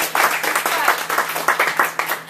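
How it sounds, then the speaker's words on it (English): Audience at a poetry show at the Edinburgh Fringe breaking into applause, a dense burst of many hands clapping close by that continues steadily with slight swells. "give yourselves a clap"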